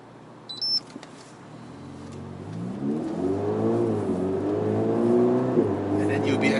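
A Ferrari accelerates gently, its engine note rising steadily and smoothly from a low hum to a stronger drone, heard from inside the quiet cabin. Someone talks over the sound.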